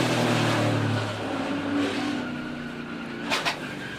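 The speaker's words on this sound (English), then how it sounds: "I don't miss that sound, being inside the car and hearing all that." Onboard in a NASCAR Xfinity Series race car at Daytona, a loud sustained engine drone fills the cabin, easing slightly after the first second, with a couple of brief higher bursts near the end and no talk.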